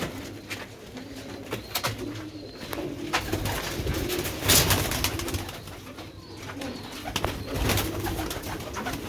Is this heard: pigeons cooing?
yes